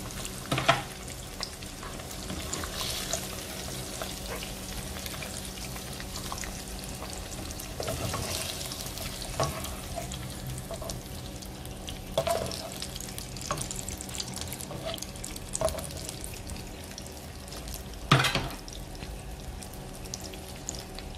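Eggs frying in a pan while a full English breakfast is cooked, a steady close sizzle and crackle running throughout with occasional clinks and stirring knocks, no talk.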